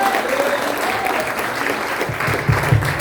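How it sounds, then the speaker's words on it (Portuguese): A church congregation at a celebration service applauds together, a loud, continuous wash of clapping filling the hall, with a few voices calling out near the end. "Você que crê, aplauda o Senhor em nome de Jesus."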